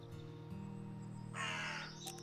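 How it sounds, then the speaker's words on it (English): A crow caws in the video game Wytchwood, faint against a steady low ambient drone, with a brief harsher call near the end. "That is a crow, right?"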